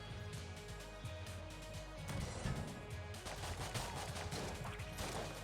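Rapid video-game gunfire in Enter the Gungeon, a dense stream of shots with bullets bouncing off walls, steady and fairly loud throughout with a busy game soundtrack beneath.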